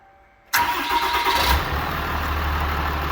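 A Ram 3500 with a Cummins diesel engine cranks and fires after a short quiet moment, then settles into a loud, steady, rumbling idle close by.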